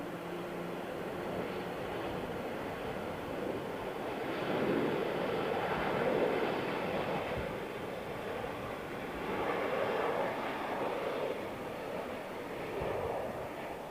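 A Georgian cargo freighter aircraft at London Heathrow Airport gives a broad, distant roar that swells and ebbs steadily for the whole stretch, with no talk heard.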